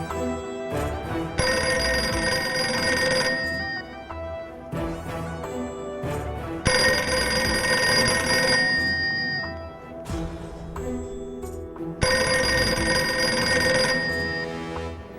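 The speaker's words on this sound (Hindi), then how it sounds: "घंटी बज रही है।" A telephone rings in repeated bursts of trilling bell tones separated by short pauses, steady and clear with no talking.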